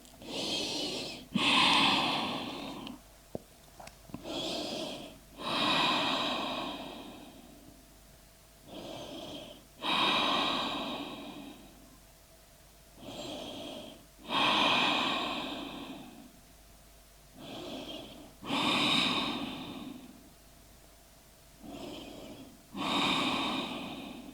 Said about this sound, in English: Really take deep breath here and relax